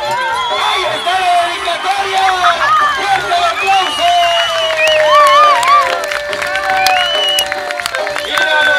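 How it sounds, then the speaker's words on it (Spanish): At a jaripeo rodeo in Turicato, Michoacán, a loud crowd cheers, whoops and whistles continuously, with applause and excited voices blending into a dense, roaring din throughout. "¡Fuerte el aplauso!"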